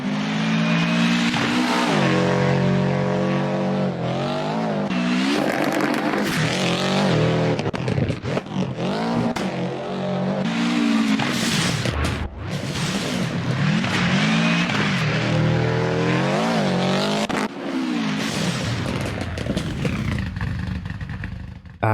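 Race car engines in the racing video game NGP6, loud and close, revving and changing pitch through gear shifts and acceleration over about twenty seconds, no talk.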